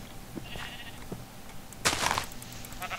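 A sheep in Minecraft gives one loud, close bleat midway through, against quiet game ambience, with no voices.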